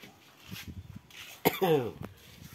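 A single rough cough breaks through quiet background noise, followed by a brief wheezy, voiced exhale.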